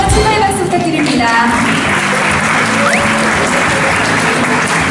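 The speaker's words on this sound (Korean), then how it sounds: "다시 한번 추가의 박수 부탁드립니다" Audience applause at the finals stage of a music competition, a dense, steady wash of many hands clapping at close range and holding loud for the whole stretch, with faint tonal hints of background music underneath.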